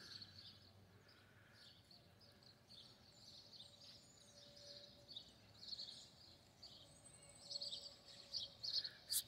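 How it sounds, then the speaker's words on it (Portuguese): Small birds chirping among trees in a small-town square, faint high twittering calls scattered through soft outdoor ambience, growing a little busier and louder toward the end. "Os passarinhos felizes por aqui."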